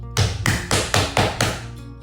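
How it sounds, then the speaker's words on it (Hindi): A run of six evenly spaced, crisp knocks on a door, close and fairly loud, then silence. "इतने में द्वार पर दस्तक होती है।"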